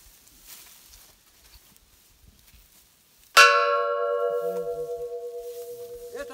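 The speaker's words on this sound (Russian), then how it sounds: "Колокол, колокольные удары." A ship's bell (rynda) hanging at a children's camp is struck once after near silence and rings out loud and clear, its bright tone slowly fading over several seconds.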